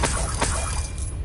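A Confringo fire spell blasts in Hogwarts Legacy as a loud, crackling burst, with a second sharp crack close behind, then a noisy hiss that slowly tapers off.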